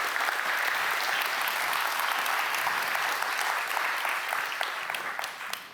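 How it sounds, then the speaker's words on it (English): Sustained audience applause at a festival opening, dense and steady clapping from a large crowd that fades slightly toward the end. "And a round of applause for yourselves."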